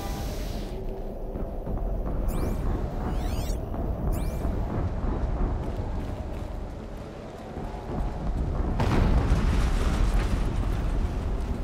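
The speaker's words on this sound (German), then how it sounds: "Eine Explosion." A deep, rumbling explosion in Horizon Zero Dawn roars over continuous crackling noise, with sharp synthetic zips and whooshes along the way and a louder surge toward the end.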